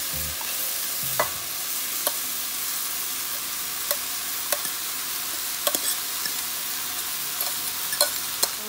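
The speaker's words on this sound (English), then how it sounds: "Sauteing them for a few minutes" Vegetables saute in a pan under a continuous close sizzle, with light clicks of stirring scattered every second or so, steady and moderately loud, no talking.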